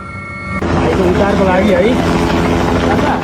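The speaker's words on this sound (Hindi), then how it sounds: "अलग अलग जगह रेस्क्यू के लिए, बचाने के लिए हेलीकॉप्टर लगाए जा रहे हैं।" A rescue helicopter flies over flood-struck Nepal, its rotor and engine a loud, steady roar that rises in sharply after a quiet start, with voices talking underneath.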